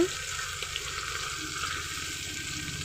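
Small fish such as khoira fish frying in oil in a pan for tomato chochchori, a steady unbroken sizzle that holds close and even from start to end, with no voices over it.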